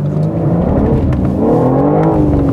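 A BMW M4 G82 with a manual gearbox, its engine revving loud and close, the pitch climbing and dropping through quick gear shifts, with no talking.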